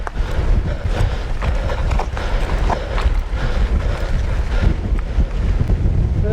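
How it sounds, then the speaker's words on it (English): Strong wind buffets the microphone with a loud, continuous roar while cycling on a high hilltop climb in the Yorkshire Dales near Kettlewell and Starbotton; no speech. "we're quite high now, and in the full wrath of the wind"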